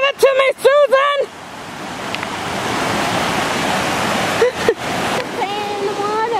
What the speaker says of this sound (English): Playing in the water.